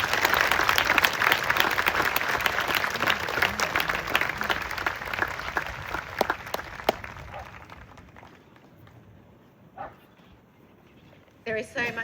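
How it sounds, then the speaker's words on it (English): An audience claps loudly for the Dunich dancers at an Australia Day celebration of Gadigal culture, the applause fading away by the end, followed by a few isolated sounds. "please give a round of applause to the Dunich dancers"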